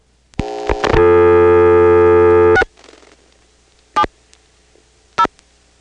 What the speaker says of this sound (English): let's see what happens if we pick up a touch-tone phone in Dale City in August 1977 and dial 670